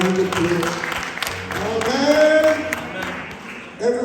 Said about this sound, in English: Let's give the Lord a clap around the applause.